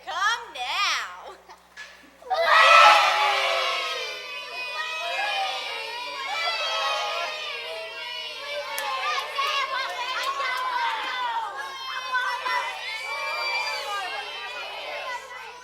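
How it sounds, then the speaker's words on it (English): A crowd of children shouts and cheers in an excited, sustained clamor of overlapping voices after a brief quieter opening, loud and close throughout. "Oh, just look at the crowd."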